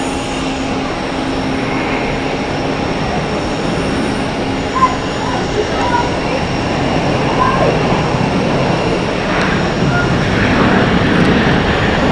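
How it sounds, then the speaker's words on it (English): Turkish Airlines Airbus A321neo departing Zurich Airport, its engine roar a steady broadband rumble and whine that holds through the whole clip and swells slightly toward the end, heard from a distance outdoors. "Turkish Airbus A321 Neo heading off to Istanbul."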